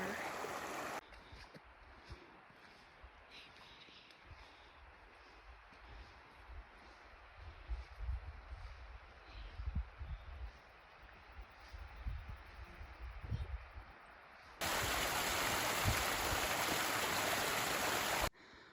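A river rushes past a hiking-trail crossing on the Four Pass Loop backcountry route, its steady broadband wash running close and continuous, with a brief louder surge of water noise near the end.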